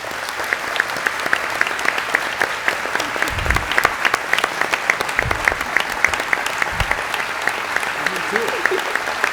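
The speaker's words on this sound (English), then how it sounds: "let's give them a round of applause, please" An audience applauds selected students at an event, with a steady run of clapping throughout and a few low thumps and voices mixed in.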